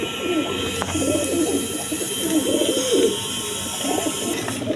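Pigeons coo in a steady, overlapping chorus of low rolling calls, close by, over constant background hiss.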